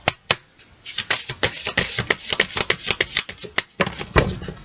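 Oracle cards being shuffled and handled for a reading, giving a dense run of close, crisp riffling snaps and taps that continue steadily with no voice over them.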